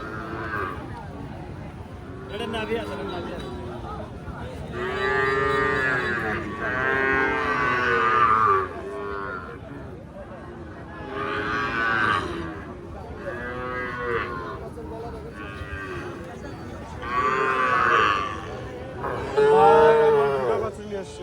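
Sahiwal cattle low repeatedly at a crowded calf market ahead of Qurbani, with loud, drawn-out moos rising one after another while people talk nearby.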